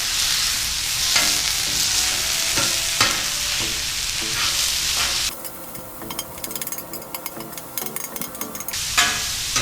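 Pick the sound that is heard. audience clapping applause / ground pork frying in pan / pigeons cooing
ground pork frying in pan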